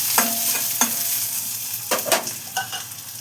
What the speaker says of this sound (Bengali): এইবার এই তেলে কি দিচ্ছি দেখো, এই যে পেঁয়াজ কুচোনোগুলো দিয়ে দিচ্ছি, পেঁয়াজ কুচিটা।